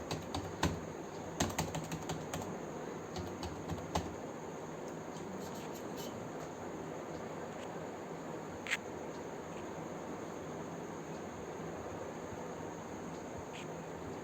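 Rapid, quiet typing on a computer keyboard while entering a one-time password, with continuous soft keystrokes against a faint hiss.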